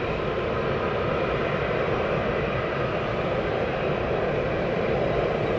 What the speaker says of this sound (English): Next aircraft taxiing out.